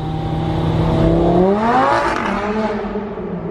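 A powerful 5.2-liter V10 engine in a Lamborghini Murcielago revs hard, its pitch climbing then easing back, loud and close throughout.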